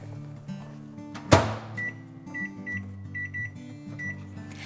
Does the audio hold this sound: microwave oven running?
yes